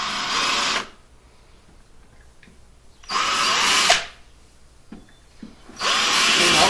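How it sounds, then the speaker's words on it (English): A power drill with its bit marks holes in a fiberglass boat surface for a rod holder mount, running in three loud close bursts separated by quiet pauses with faint handling clicks. "I'm going to take my drill bit and I'm going to mark the other 3 holes."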